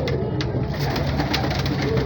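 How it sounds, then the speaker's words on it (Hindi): An antique high flyer pigeon coos softly and steadily at a Shahdara market stall, its low murmuring calls close by and mixed into a constant bed of market noise. "बड़ा अंटीक कबूतर है,"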